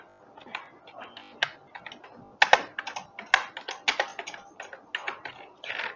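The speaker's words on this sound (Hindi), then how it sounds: "तो मैं जो जाफरी भाई लिख देता हूँ" Fast, uneven keystrokes on a computer keyboard as a name is typed, clicking in short bursts with a few louder strokes, close by and alone without talk.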